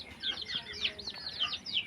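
Small chicks peep in a pen in rapid, high-pitched chirps, several overlapping calls close by in a continuous chatter.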